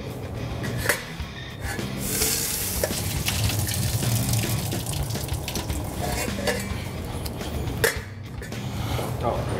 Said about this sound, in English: Let's go and drain the water off these.